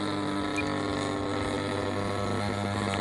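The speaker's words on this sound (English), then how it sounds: "Engine's a little gurgly" The 30cc gas engine of a Great Planes Giant Avistar RC airplane in flight gives a steady, slightly gurgly drone from a distance, continuous and even throughout, with no one talking.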